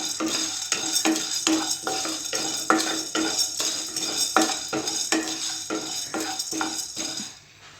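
Urad dal and chana dal fry in oil in a pan for curry leaf kulambu, with a spoon scraping and stirring in a steady rhythm of clinks over a soft sizzle, close and moderately loud.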